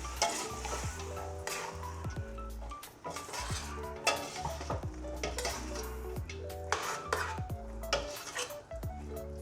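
Bottle gourd and chicken being stirred in a pan after salt and garlic powder go in: busy metal spoon scrapes and clinks against cookware over a constant low sizzle, no talking.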